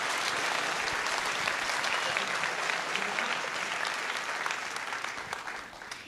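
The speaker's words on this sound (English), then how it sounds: "Can we get one huge round of applause for all of our sponsors?" Audience at a hackathon opening ceremony applauding the sponsors, a dense sustained wash of many hands clapping that fades slightly toward the end.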